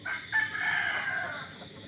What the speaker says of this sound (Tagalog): Ang kakaibang inahin na tumitilaok